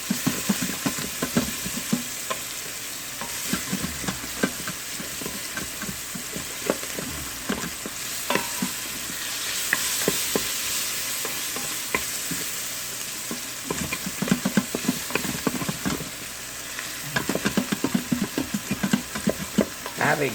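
A spoon stirs and scrapes across the bottom of a pan of frying pork with sauerkraut, giving steady sizzling with repeated scraping strokes, close and fairly loud, no talking.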